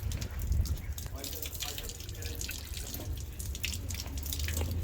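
Spring water pours and splashes steadily from a village fountain in İskilip, Çorum, with a low outdoor rumble beneath the trickle.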